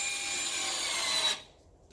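A Wiha 4V electric screwdriver drives a screw into wood with a steady whirring buzz that stops abruptly after about a second and a half.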